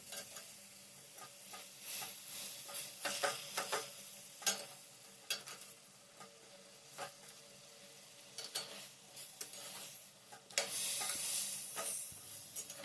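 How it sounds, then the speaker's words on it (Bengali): A utensil stirs sugar melting in a pan with soft irregular ticks, over a faint, steady sizzling hiss. No voices. "এখন এগুলোকে এইভাবে একটু নাড়াচাড়া করলেই চিনিটা মেল্ট হয়ে যাবে।"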